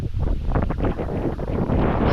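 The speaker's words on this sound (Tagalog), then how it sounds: "Ang hangin po ngayon malakas yan." Strong wind of the amihan season blows hard across the microphone near a mango tree and rice paddies, a loud, gusting roar with rustling throughout.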